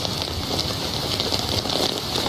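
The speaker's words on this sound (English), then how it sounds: "It's raining pretty hard." Heavy rain pouring down on people walking outdoors, a dense, steady hiss of drops that stays loud and constant with no talk.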